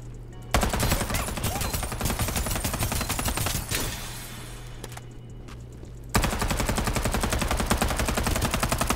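Rapid automatic gunfire in the battle royale game Farlight 84, loud sustained bursts with a short lull in the middle before another fast stream of shots.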